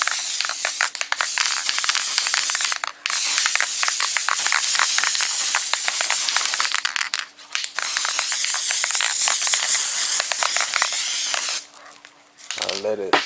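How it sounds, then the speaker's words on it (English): Repeated close hissing bursts of a spray adhesive can on a cracked dashboard, short and long sprays separated by brief pauses. "Now I just spray me some more"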